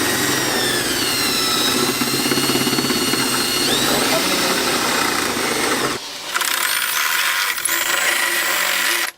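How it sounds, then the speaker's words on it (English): A drill boring up through the metal hood of a turbocharged Lexus SC300 while hood pins are fitted, a loud continuous whine for about six seconds, then a brief dip and a harsher, higher grinding stretch before stopping. "Now all you gotta do is drill up."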